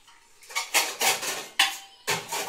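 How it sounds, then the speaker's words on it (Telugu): A utensil clinks and scrapes against a bowl while ingredients, onions among them, are mixed for a veg sandwich filling, in five or six close bursts of metallic rattling with short pauses between. "సో నేను ఇందులో ఇలా ఒక బౌల్లో కలుపుకుంటాం మొత్తం"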